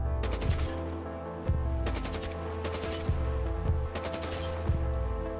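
Repeated bursts of gunfire from a modded Black Ops zombies map, with rapid volleys of shots coming in three or four clusters over a steady, loud game backdrop, with no talking.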